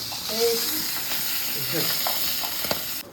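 Bata fish frying in a small amount of light oil, giving a steady sizzle and hiss throughout with a few stirring clicks and faint voices in the background.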